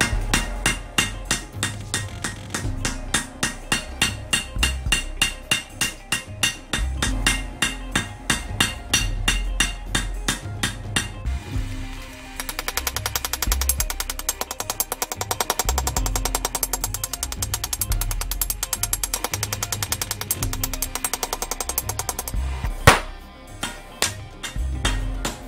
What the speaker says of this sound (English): I'm going to attempt to forge weld that